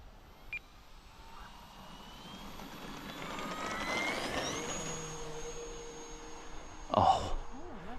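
Electric motor of an E-Flite Air Tractor RC plane spinning up, a thin whine rising in pitch and then holding a steady high tone, with a brief louder burst near the end.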